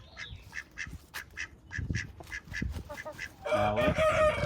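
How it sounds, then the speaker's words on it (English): Foster ducks quacking in a quick run of sharp calls, close by, with a louder burst of honking quacks near the end and no talk over them. "our two foster duck friends"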